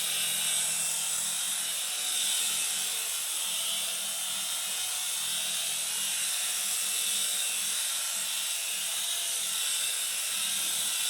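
A Sega-licensed Sonic RC toy helicopter hovers nearby, giving a constant, high-pitched whirring buzz of small rotor and motor that stays steady and fairly loud throughout, with no talk.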